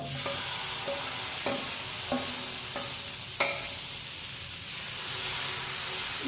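Dosa batter poured onto a hot pan sizzles and hisses steadily, broken by a few sharp scraping clicks of a utensil, close and fairly loud, with no speech.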